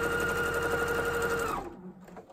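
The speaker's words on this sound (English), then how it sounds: "then just sew straight across" A sewing machine sews straight across quilt binding in a steady, rapid mechanical whir with fast needle beats, then stops abruptly and leaves a short, faint tail of quiet.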